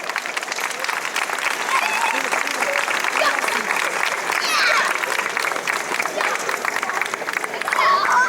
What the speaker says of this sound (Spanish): Un fuerte aplauso para Pepe García Cano.